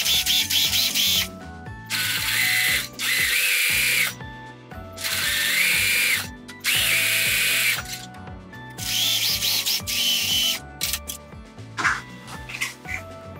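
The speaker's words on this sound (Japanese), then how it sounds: "下の分を少し引っ張り気味に縫っていきます。" A sewing machine stitches a cushion cover in several bursts of fast, loud mechanical whirring and clacking, separated by brief pauses between seams, close up with no talk.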